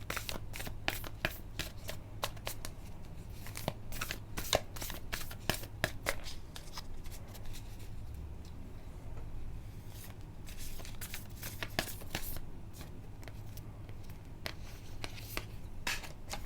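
Tarot cards are shuffled and handled close up for a long stretch, giving a steady papery riffle with bursts of sharper snapping flicks, and no voice is heard.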